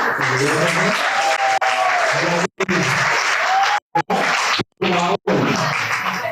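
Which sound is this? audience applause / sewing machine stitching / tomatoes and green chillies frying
audience applause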